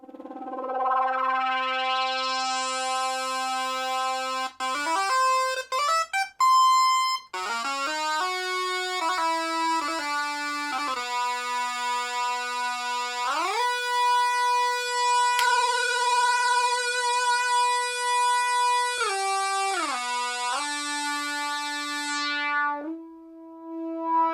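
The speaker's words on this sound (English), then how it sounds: "just so you can have a rough idea of what the speaker sounds like" A Yamaha CS-01 synthesizer heard through its own small built-in speaker, playing a sustained buzzy melody of stepping and gliding notes, bright and thin, with a brief glitchy burst early on and no talking.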